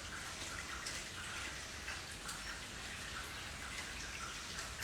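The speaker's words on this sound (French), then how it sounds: "écoutez l'eau qui coule derrière moi. Ouais, il est en train de pleuvoir" Steady rain falls outdoors with running water, a continuous broadband hiss and patter throughout, fairly soft and with no talk over it.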